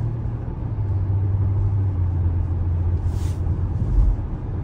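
A 2024 Nissan Pathfinder SUV cruising on the road, its cabin filled with a steady low engine drone and road rumble, fairly quiet overall with a faint brief hiss near the end.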